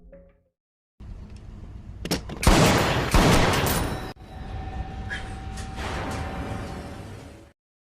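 Gunshots in a violent film scene come as a cluster of loud, close bangs and a burst of rapid fire, followed by a sustained noisy rumble that slowly tapers off.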